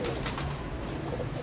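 Brief, close low cooing from a pigeon in a loft, a soft throaty burble repeated in quick pulses over a murmuring background.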